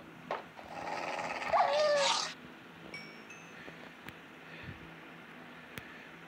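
A dog growls briefly at mid distance inside a cozy life-sim video game, a low rumbling snarl lasting about a second and a half, followed by faint scattered game clicks and tones.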